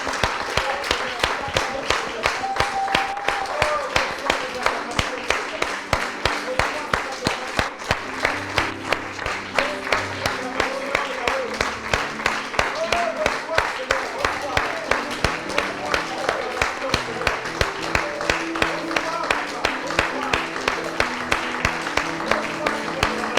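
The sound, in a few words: congregation applauding and cheering in church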